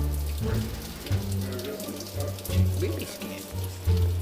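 Rain falls steadily during a rainstorm, a soft hiss under a low, uneven rumble of background noise.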